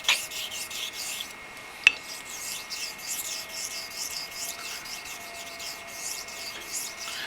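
A Koraat knife blade is drawn over a sharpening stone to set a bevel during chip repair, with one layer of tape on the blade. The strokes make a continuous close, rhythmic rasping rub, with a single sharp tick near the start.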